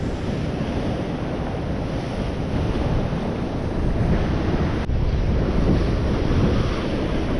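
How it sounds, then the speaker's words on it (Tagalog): Loud ocean surf crashing continuously at a fishing spot, battered by strong gusting wind roaring across the microphone, with no voices. "Grabe ang likot ng alon, ang lakas ng hangin"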